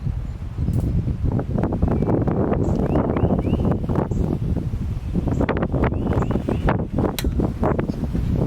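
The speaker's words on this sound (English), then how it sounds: "Ooh, it's windy." Gusty wind buffets the microphone outdoors during a wood-carving session, a constant loud rumble with rustling and a few faint bird chirps, no talking.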